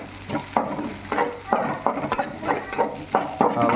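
Mustard seeds frying in oil in a pan, a steady close sizzle broken by regular scraping stirs and light popping, with no voices.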